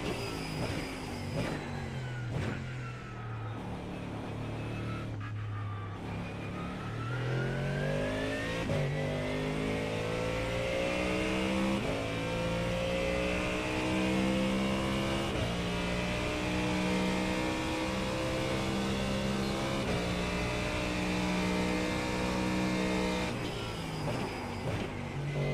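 A NASCAR race car engine in a racing video game, revving steadily through the gears with rising and falling whine, loud and continuous, no talking.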